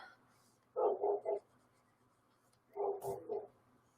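A dog barks outdoors in two short bursts of about three barks each, spaced a couple of seconds apart, moderately distant over a quiet background.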